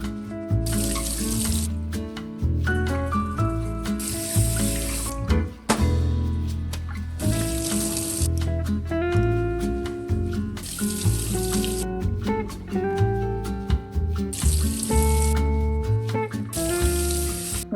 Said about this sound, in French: je vais juste les laver à l'eau avec du savon